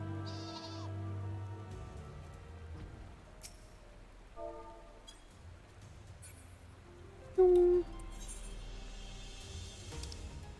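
Sheep bleating in the video game Final Fantasy XIV, several wavering bleats scattered over a quiet game soundscape, one louder call near the end.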